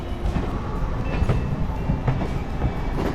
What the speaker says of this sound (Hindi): सुबह का ये रेल स्टार्ट हो चुका है